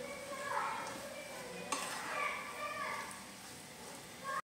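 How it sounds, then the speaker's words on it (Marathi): Creamy pasta full of vegetables, with oregano added, being stirred in a pan: a steady soft scraping and gentle sizzle that runs throughout at low volume. "छान आता मिक्स करून घेते"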